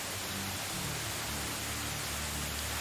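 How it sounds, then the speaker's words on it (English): Rain falling in the medieval survival game Medieval Dynasty, a dense, continuous wash of soft hissing patter at low, even volume, broad and steady with no voices over it. "Oh, the rain is really loud, huh?"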